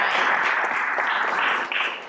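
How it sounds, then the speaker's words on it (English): Audience applause for Senator Beth Bai, a bike and pedestrian advocate, at the state Capitol: dense, steady clapping from a crowd, fairly near, sustained throughout and tapering slightly at the end. "Yes, clap. Let's clap for Beth"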